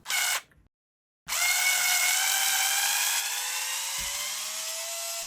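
Power drill spinning out chassis bolts on an Arrma Senton RC car, a short burst followed by a pause, then a sustained close, loud whine that sinks slightly in pitch as the bolt backs out.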